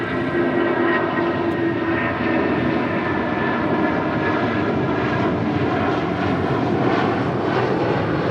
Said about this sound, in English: This is United 2072 taking off to Newark